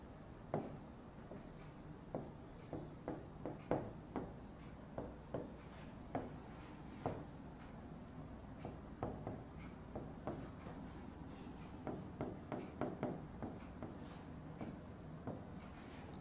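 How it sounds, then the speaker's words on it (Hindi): Chalk tapping and scraping on a board as a teacher writes out element names in a Class 12 chemistry lesson, a long series of quick, crisp strokes and clicks in irregular clusters, fairly faint over a quiet room. "इसमें कौन कौन से तत्व हैं मैं आपके लिए एक बार लिख देता हूं"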